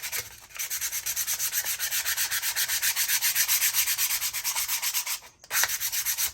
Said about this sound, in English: I just kind of take the sandpaper and kind of, if it doesn't get all the way in there, it's okay.